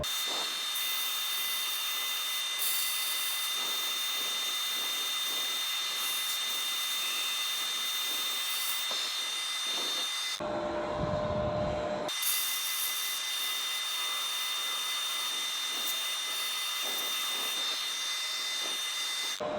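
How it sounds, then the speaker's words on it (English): A wooden monkey puzzle urn is sanded with 80 grit paper, a steady abrasive whirring that breaks briefly midway and then resumes, close and continuous. "I think what we'll do now is sand it up. I'll start with 80 grit."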